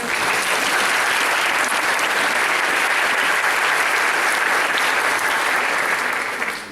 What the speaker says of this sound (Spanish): un aplauso para el ingeniero